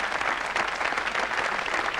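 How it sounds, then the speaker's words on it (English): A television studio audience at a 1980s comedy show applauds steadily and loudly, a dense even wash of clapping with no gaps. "a big round of applause, please, for our star"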